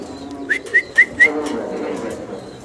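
Pigeons at a pigeon farm give four short, clear calls in quick, even succession, close by, over a low background murmur.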